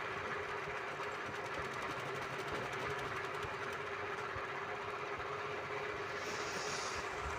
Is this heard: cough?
no